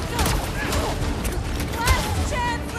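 Fireworks in the video game Guardians of the Galaxy crackle and pop in quick bursts amid a dense, busy game soundscape, with characters shouting over them.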